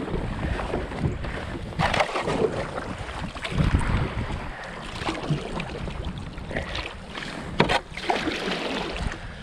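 A plastic boat paddling through frozen, icy water along a frozen bank, with steady splashing and crunching strokes close by under a constant rush of wind noise, no voices.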